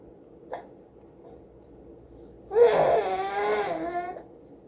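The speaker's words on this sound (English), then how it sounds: "Uh-oh, somebody has hiccups." A baby makes a short hiccup-like catch, then a longer whimpering, crying vocal sound at feeding time, close and fairly loud over a quiet room hum.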